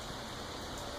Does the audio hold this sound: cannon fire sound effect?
no